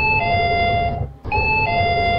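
An office doorbell chime from a Streamdeck plays twice, a two-tone electronic ding-dong repeated after a short gap, clear and moderately loud.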